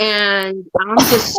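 A single sneeze bursts out between stretches of a person's talk, close and fairly loud, with speech on either side.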